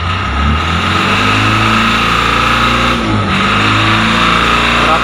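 Tata Ace Gold BS6 mini truck diesel engine running after DPF regeneration, a steady, loud close-up engine drone with rhythmic revving and a brief dip in the middle, no voices.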